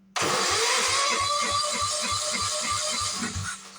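Scrapyard welder's engine starting from a standstill: a rhythmic low chugging of cranking turns into a steady running engine with a busy mechanical roar, loud and close, with no voices.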